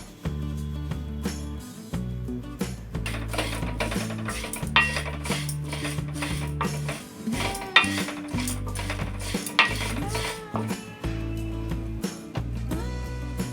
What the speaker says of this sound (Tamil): அதை இது கூடவே போட்டு நம்ம வதக்கிடலாம்.